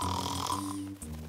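A cartoon bee snores while asleep, a short low droning snore with a nasal buzzing tone that breaks off briefly and resumes, close and fairly faint.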